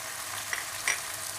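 Spice paste of onion paste with ginger-garlic paste frying in oil in a pan for shrimp malaikari, a soft steady sizzle with a couple of brief stirring scrapes, fairly quiet and close, with no talk.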